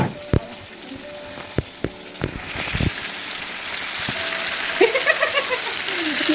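Chicken curry meat being braised (kosha) in a pan, a sharp clatter of spoon knocks at first, then a continuous loud sizzle and bubbling as the stirring goes on.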